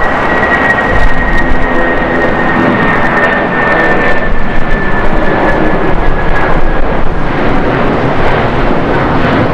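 A United Airlines Boeing 757-224 jet taking off at LAX, a loud, steady, close roar of engines at full thrust with a high whine on top, continuous throughout.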